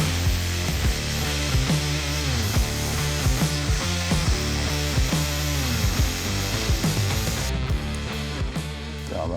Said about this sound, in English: I need a regular grinder for this.